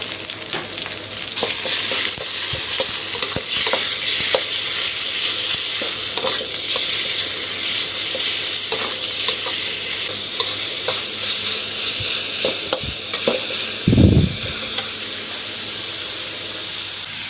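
Minced pork stir-fried in a pan with golden garlic and kaffir lime leaves, a loud continuous hissing sizzle with scattered spatula scrapes and taps and a brief louder clatter near the end, no talking.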